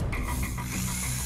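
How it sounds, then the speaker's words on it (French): A 500-watt electric drill runs steadily and loudly up close, a dense grinding mechanical whine with a rhythmic rattling texture throughout. "Une perceuse électrique."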